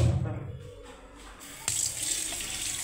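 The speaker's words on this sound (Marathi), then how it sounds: "पहिले आता आपण नळाखाली स्वच्छ पाण्याने धुवून घेऊया." Running tap water pours into a sink as fish are rinsed, a steady close splashing flow that grows louder partway through.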